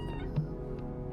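A friendly cat gives a short, soft meow close by outside old village houses in Yuen Long, Hong Kong, over low background rumble.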